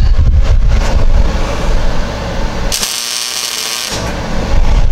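A Daytona MIG welder lays down a tack weld, a sharp, loud burst of crackling arc hiss lasting about a second and a half, set against a constant rumbling workshop background.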